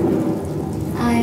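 Rain and thunder effect in Disney's Carousel of Progress show at Magic Kingdom, a steady rushing downpour with a low rumble, brief and fairly loud.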